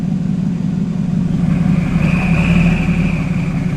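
A Porsche fitted with WISH whistle upgrades, rolling in reverse and then driving off, makes a steady low engine rumble with a thin whistling tone rising partway through, loud and close with no talking.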